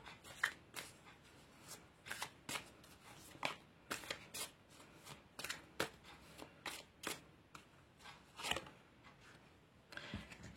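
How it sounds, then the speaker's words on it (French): A deck of oracle cards is shuffled by hand, making quiet, close, papery riffles and slaps in a loose repeating rhythm of short bursts separated by small gaps. "Donc, je vais tout de suite battre les cartes."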